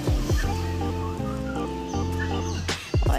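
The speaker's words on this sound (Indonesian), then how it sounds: "Oh, iki ana ayam kate ini yang mini-mini ayam kate." Bantam chickens at a small zoo cluck in short, repeated tonal calls, close and fairly clear, with a couple of sharper outbursts near the end and faint background murmur.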